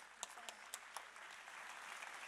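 Audience applause for butcher Bertrand Sauvage at the Calais mayor's New Year ceremony, a steady wash of clapping with a few sharper claps standing out near the start, moderately quiet.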